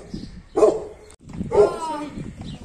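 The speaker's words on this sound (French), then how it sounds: "il y a un chien qui monte la garde" A guard dog barks twice nearby in Greece, each bark loud and sharp, with people talking around it.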